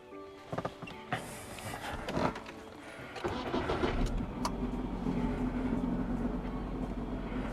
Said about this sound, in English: I'm going to start the car so it might get a little noisy